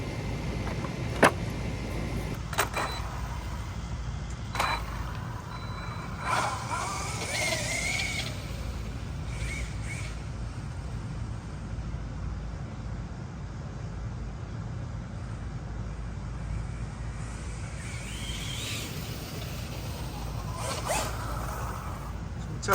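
A Losi Super Baja Rey 2.0 RC truck on 8S power drives through tall grass, its electric motor whining and surging in bursts at a middle distance over steady rustling and outdoor background noise.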